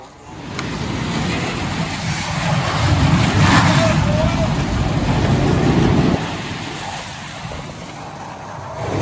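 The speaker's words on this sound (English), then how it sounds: "They just fired up the cars." NASCAR stock cars firing up before the green flag at the Coca-Cola 600, a loud, sustained rumble of many engines that swells and then eases, heard alongside talk.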